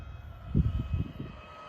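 A remote-control chopper flies against the wind, its motor making a steady engine drone with a fluctuating, pulsing whir that is moderately faint and heard alone.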